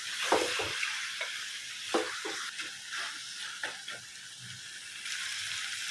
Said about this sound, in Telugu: టోటల్ 1 మినిట్ వరకు మనం ఈ మసాలాలు మిక్స్ చేసేసుకుందామండి. మనకి మసాలాలు మంచిగా రోస్ట్ అవ్వాలి.